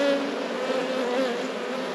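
Honey bees buzz steadily around an open, weak hive with chalk brood, a loud continuous drone close by with no talk over it.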